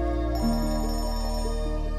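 A phone ringtone plays in a Hindi-dubbed film scene, a steady electronic melody with pulsing tones, heard loud and alone without speech.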